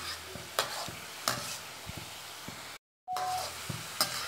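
Paneer and potato fry in a pan, a low steady sizzle broken by periodic scraping stirs and light clinks, fairly quiet and close, with a brief gap of silence midway.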